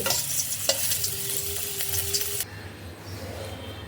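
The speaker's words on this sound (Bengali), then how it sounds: "এবার ওই তেলের মধ্যে দিয়ে দিচ্ছি দুটো কাঁচা লঙ্কা কাঁচা লঙ্কাগুলোকেও আমি ভালো করে ভেজে নেব" Green chilies frying in hot oil for a tomato bharta, a close, busy sizzle with a brief clink early on that drops to a quieter hiss partway through.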